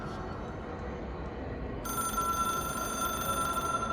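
A telephone in the video game Control rings with a steady electronic bell tone that starts partway through and holds, layered over a low ambient hum, with no talking.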